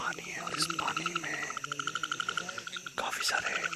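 Frogs and insects call from the water in Pai Forest: a steady pulsing croak chorus with a continuous high insect trill, fairly close and moderate in level, with brief rustles at moments.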